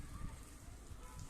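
Heavy rain falls in a steady, faint hiss outdoors as people head out into it, with no clear talking.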